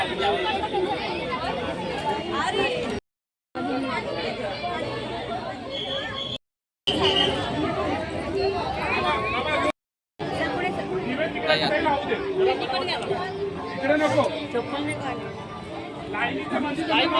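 Dense crowd chatter fills the grounds of Durgadi fort during the Tripurari Purnima lamp festival, a steady close babble of many voices with a few brief dropouts.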